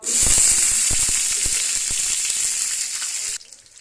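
Green chilies fry in oil in a deep pan, giving a loud, steady, hissing sizzle with crackling pops throughout. The sizzle drops off abruptly near the end. Close, and no voices.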